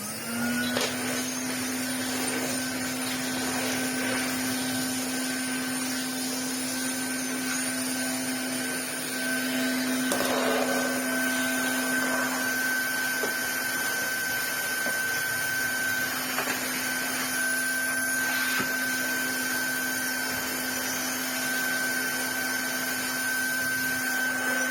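Bagged cylinder vacuum cleaner with straight suction and a disposable bag, running steadily nearby with a constant whining drone and faint shifts in tone as it moves, no voices.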